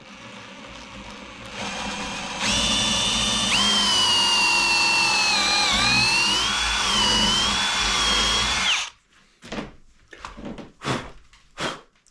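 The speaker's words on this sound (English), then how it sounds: "This red oak's hard to drill through, especially keeping it straight." A power drill whines loudly and steadily for several seconds while boring into hard red oak, pitch wavering under load, then cuts off, followed by a few scattered bumps and knocks.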